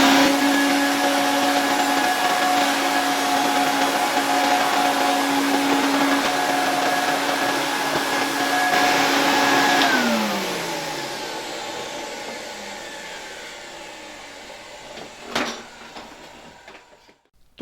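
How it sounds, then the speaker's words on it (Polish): A Zelmer vacuum cleaner runs close by with a steady, loud motor whine while it cleans the outside of an old Baby Daisy bellows vacuum from around 1910. The motor then winds down and fades, and a single sharp click follows. "ja biorę teraz tego mojego Zelmera i spróbujemy nim troszeczkę przynajmniej z zewnątrz odkurzyć ten stary odkurzacz Baby Daisy"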